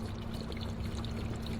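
Water pouring into the radiator of a Porsche Cayenne GTS, a steady, continuous splashing stream with a faint low hum beneath it, close and unbroken for the whole moment.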